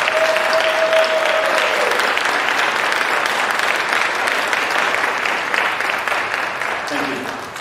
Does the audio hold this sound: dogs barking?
no